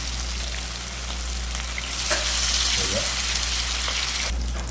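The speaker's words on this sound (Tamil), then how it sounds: "நம்ம இப்போ சிக்கன் பொரிக்கிறோம்." Chicken pieces deep-fry in sunflower oil with a loud, steady hiss and sizzle that swells briefly midway.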